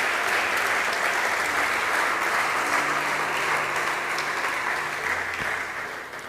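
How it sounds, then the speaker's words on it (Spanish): A church congregation gives loud, sustained applause during a sermon, a thick crowd of clapping hands that holds steady for several seconds and begins to fade toward the end, with no speech. "Dale un aplauso,"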